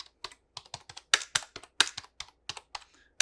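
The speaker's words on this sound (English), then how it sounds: "But here's a little typing test." Rapid, uneven clicking of keys on a compact keyboard with a broken spacebar, a close, crisp burst of typing with a few heavier thuds, no voices.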